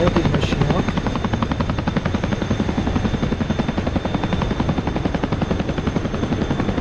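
A Chinook tandem-rotor helicopter in the DCS flight simulator game, its rapid rhythmic rotor thumping steady and loud with a constant turbine whine beneath, filling the whole stretch without talk.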